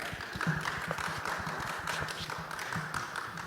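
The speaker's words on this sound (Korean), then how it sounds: "큰 박수로 환영해 주시기 바랍니다." An audience at a live science career talk concert applauds to welcome a guest speaker, producing steady, dense clapping that stays fairly faint and distant throughout.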